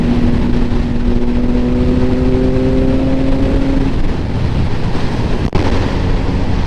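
Triumph Speed Triple 1050 RS motorcycle riding at speed, its engine a steady loud drone with a held tone under heavy wind rush, ending with a brief thump.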